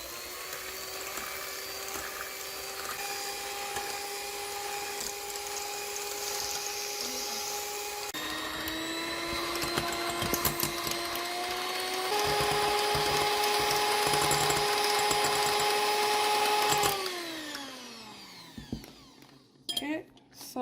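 Electric hand mixer whisking egg whites in a bowl for a gluten-free almond cake, a steady high whine that shifts speed midway and then winds down and stops near the end, close and fairly loud.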